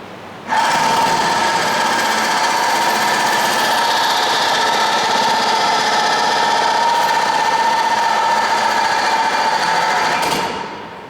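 Motor-driven cam and follower mechanism running, a loud continuous rapid clattering hum that starts abruptly, holds steady for about ten seconds, then stops.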